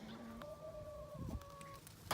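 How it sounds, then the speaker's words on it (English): Chickens cluck and murmur close by in short tonal calls, quiet and continuous, with a soft rustle partway through. "Got all the chickens here."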